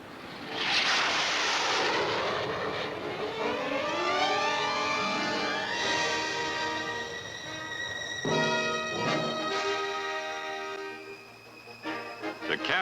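A fixed-wing airplane flies overhead, its engine drone swelling loud then easing with a falling pitch sweep, a second pass rising midway before fading out, no speech.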